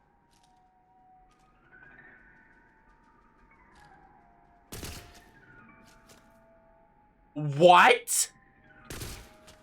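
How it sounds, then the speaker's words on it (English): Two sharp, isolated gunshots ring out in Tiny Tina's Wonderlands, well apart amid a quiet game backdrop with faint tonal music, and a man's brief exclamation falls between them. "I shoot a bird out of my gun?"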